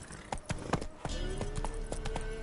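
Horse hooves clip-clopping at a trot in The Witcher 3, a steady run of sharp knocks over a continuous low rumble, with a faint tonal whine in the background.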